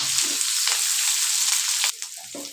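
Onion and capsicum stir-fried together in a pan for chilli chicken, giving a loud, dense sizzle with light stirring. The sizzle eases suddenly near the end and continues softer with a few scrapes.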